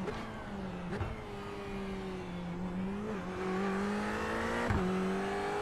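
Ferrari race car in iRacing at Imola, its engine droning steadily with clear harmonic tones that dip briefly at gear changes and climb again as it accelerates, heard alone and fairly loud.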